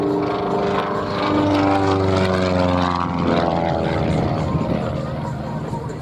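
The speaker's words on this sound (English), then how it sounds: "piston-driven business aircraft. Watch him as he goes over the top." Piston-driven Long-EZ home-built experimental aircraft flying airshow maneuvers over a Marine Corps air station, its propeller engine droning loud and steady throughout with a shifting pitch as it passes overhead.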